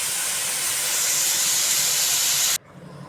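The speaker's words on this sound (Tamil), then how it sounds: "சாம்பார் தாளிக்க போகிறோம்." Spices tempering in hot oil for South Indian sambar, giving a loud, steady, close sizzling hiss that cuts off abruptly near the end.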